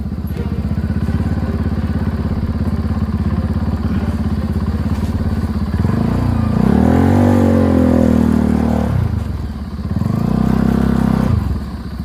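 A heavily loaded Kawasaki NS200 motorcycle rumbles steadily close by, then revs up in two rising surges, its engine note climbing and falling over a gritty road noise.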